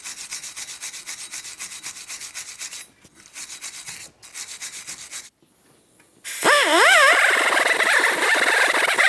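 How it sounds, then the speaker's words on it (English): Rasping strokes of a wire brush scrubbing the rust off a wheel bearing hub's rotor mating surface during a 2010-2013 Kia Forte Koup rear brake job, in rhythmic bursts with pauses, then a harsher, louder scrubbing at the end. "To do this, you can use a wire brush or even some sandpaper if necessary."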